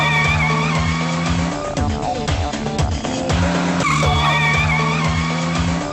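A car brakes hard with tires squealing and skidding on the road, a loud, close screech lasting several seconds with engine noise beneath, in a dramatic street scene from a Hindi-dubbed South Indian film.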